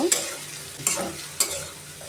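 Egg is stirred into snake gourd frying in a pan: a soft continuous sizzle broken by three sharp spatula scrapes at a slow, even pace, close and fairly quiet.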